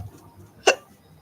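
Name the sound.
hiccup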